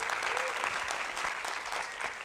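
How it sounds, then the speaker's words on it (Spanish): A church congregation at an online service applauds its multimedia team, with dense, steady clapping that carries evenly through the short moment. "Un aplauso para nuestros hermanos de multimedia"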